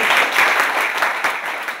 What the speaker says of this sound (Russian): Громкие, громкие аплодисменты!